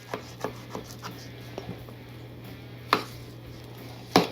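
Knife trimming fat from a brisket: scattered soft cuts and scrapes against a board, with two sharper, louder knocks later over a low steady hum.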